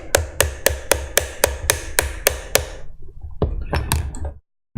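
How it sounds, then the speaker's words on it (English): A hammer strikes wooden parts of a UGEARS hurdy gurdy kit: about ten sharp, evenly spaced taps up close, a brief pause, then a few more irregular knocks, heard alone. "Make sure that's not in there, and then hammer some more."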